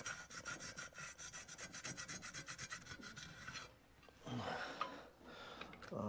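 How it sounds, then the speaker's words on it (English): A part on a motorbike bobber project is rubbed down by hand in fast, rhythmic rasping strokes, close up and fairly quiet, and then the rubbing breaks into looser, scuffing movements. "a bit of a rub round on here"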